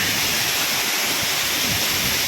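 Barakanya waterfall in Nayagarh pours in a constant, dense roar of rushing water, loud and close with no pauses, heard alone.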